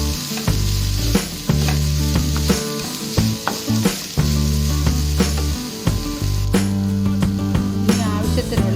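Urad dal and chana dal fry in hot oil with a loud, continuous crackling sizzle, punctuated by frequent scraping stir strokes against the pan and a low steady hum underneath.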